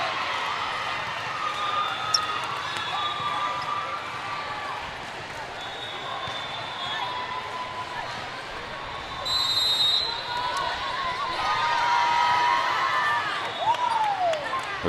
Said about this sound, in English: The girls cheer, they're ready to go.